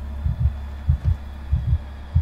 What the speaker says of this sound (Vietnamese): nghe tiếng tim đập thình thịch luôn à